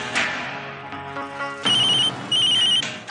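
A mobile phone ringtone plays in a Hindi TV serial scene as a wife calls, a loud melodic electronic tune repeating in short bursts with brief gaps between them.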